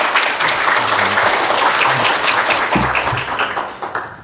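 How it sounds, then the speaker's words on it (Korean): A church congregation applauding in welcome of a missionary, a loud sustained wash of many hands clapping that fills the room and tapers off at the end, with faint voices underneath. "우리 환영의 박수로 좀 맞이하십시다"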